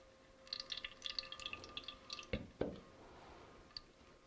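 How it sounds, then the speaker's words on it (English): Excess water from fire-roasted tomatoes draining into a bowl, faint trickling and dripping with a couple of soft sharp knocks partway through, quiet and close. "we're going to go ahead and drain that into this other bowl just so we don't have to deal with all that excess water in our salsa"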